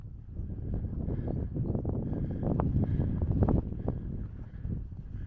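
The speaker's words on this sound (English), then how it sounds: "Now we're into the wind." Wind gusts across the exposed gritstone of Stanage Edge on a hike from Hathersage, a loud, rumbling buffeting against the microphone that swells and eases over a few seconds.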